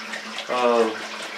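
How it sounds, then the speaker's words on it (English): A gallon of water pours into a distilling still, a steady close gush whose pitch shifts as the vessel fills, with a faint hum beneath. "put 1 gallon of water in my still"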